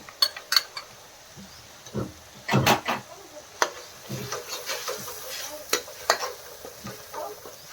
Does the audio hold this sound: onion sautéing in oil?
yes